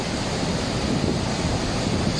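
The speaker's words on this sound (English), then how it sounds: "So you can see the power of this river." A powerful river near the waterfalls of the Four Falls Walk in the Brecon Beacons rushes in a steady, loud, close roar of churning water, continuous throughout with no voices.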